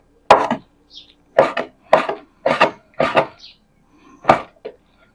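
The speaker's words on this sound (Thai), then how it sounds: "ส่วนเนื้อส่วนนี้จะมาทำเป็นเนื้อลาบประมาณนี้ครับผมหั่นให้ละเอียดเพื่อที่จะ" Knife chopping duck meat finely for Isan-style larb, heard as sharp, close, evenly spaced thuds of the blade on a board in short bursts of one to three strokes, with no talk.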